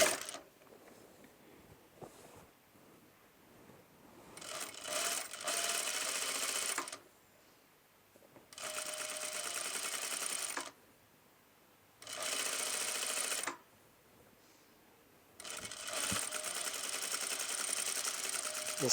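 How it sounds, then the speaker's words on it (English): Sewing machine stitching a bias strip onto raw fabric edges, running in four steady bursts of rapid, even whirring with short quiet pauses between them, close and clear. "Align bias strip with raw edges and stitch 4 mm distance from raw edges."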